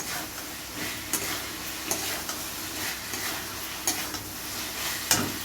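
Potatoes and cauliflower fry in a pan with tomato, a soft steady sizzle broken by repeated light clicks and scrapes of a spatula stirring every second or so.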